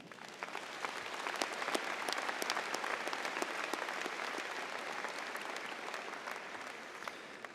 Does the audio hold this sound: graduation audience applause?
yes